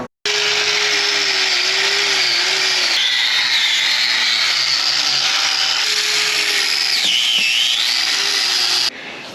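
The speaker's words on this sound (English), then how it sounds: "So I'm actually spraying over top of the shocks." Rust-Oleum Premium undercoating sprays under a Jeep over the shocks, a loud, close, continuous hissing blast with a faint whine, broken by brief pauses in the trigger before stopping near the end.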